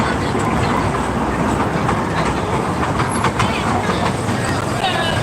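A small toy train at a children's fair in Shyamoli, Dhaka, rattles along its track in a loud, steady clickety-clack that rolls on continuously, with crowd voices mixed in.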